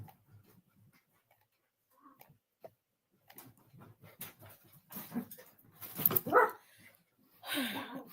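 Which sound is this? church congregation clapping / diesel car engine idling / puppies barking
puppies barking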